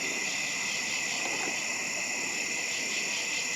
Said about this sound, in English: I can hear cicadas, crickets, frogs.